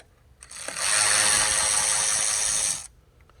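A ratchet wrench spins out 10 mm bolts holding the radiator fans on a 2016 Subaru Forester 2.0L, making a single steady whirring run of about two seconds with no talk.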